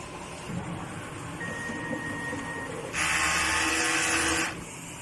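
A large-format printer with four print heads runs a head-cleaning cycle: a soft mechanical hum with a thin whine, then a louder, rushing pump-like burst for about two seconds before it eases back down.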